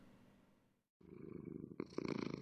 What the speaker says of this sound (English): Oh my god, it purrs.